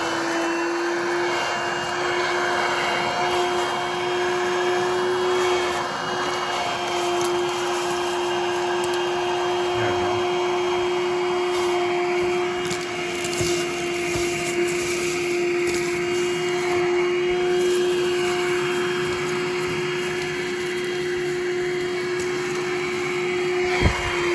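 A Coral One handheld vacuum runs steadily while sucking rice off baseboards, a loud continuous motor whine with a high tonal hum that holds nearly unchanged throughout, no voices.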